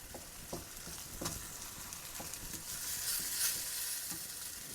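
Beef spread stirred back and forth in a frying pan, with a steady close sizzle broken by soft scraping strokes from the spatula, gently rhythmic and heard alone.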